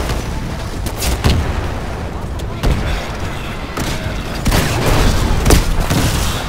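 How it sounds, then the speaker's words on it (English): Smart pistol gunfire in Titanfall, a steady stream of rapid, sharp shots with heavier booms at intervals, loud and close, mixed with game noise and some talk. "They're smart pistols"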